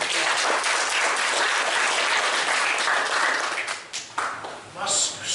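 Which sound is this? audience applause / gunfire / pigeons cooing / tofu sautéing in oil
audience applause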